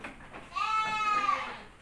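A Saanen dairy goat gives a single loud, drawn-out bleat close by, with quiet surroundings before and after.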